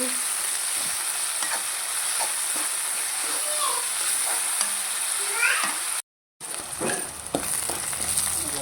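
Chopped fenugreek leaves cook in a pan for a ridge gourd and dal curry, giving a steady close sizzle with scraping stir strokes and a brief dropout to silence partway through.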